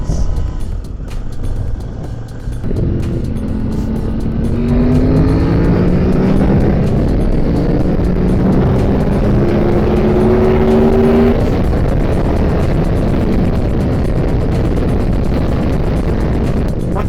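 A Kove 800X motorcycle in Sport ride mode accelerates hard, its engine note rising in pitch through successive gears over steady wind roar, loud and close throughout.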